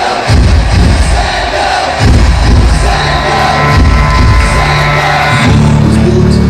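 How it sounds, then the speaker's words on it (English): A large crowd claps and cheers loudly for award winners at a corporate brand event over booming music, with a continuous wash of noise. "Everybody, we can give the winners a loud round of applause."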